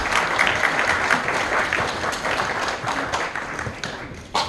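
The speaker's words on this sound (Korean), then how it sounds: "다 같이 우리 성윤모 장관님께 박수 부탁드립니다" Audience applause at an energy transition forum anniversary ceremony, a dense, sustained wash of clapping from a large crowd that carries on steadily and eases slightly near the end.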